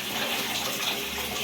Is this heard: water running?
yes